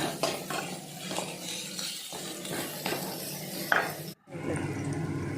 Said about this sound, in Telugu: ముక్కలన్నీ కలిసేలాగా అల్లం వెల్లి పేస్ట్ మొత్తం అన్నీ కలిసేలాగా మనం తిప్పుకుంటున్నాము బాండీలో